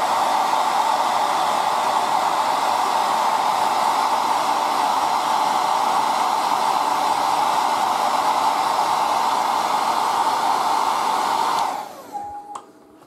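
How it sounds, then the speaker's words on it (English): A hair dryer blows steadily at close range for about twelve seconds while drying paint on a miniature model, then switches off with a click. "So use hair dryer."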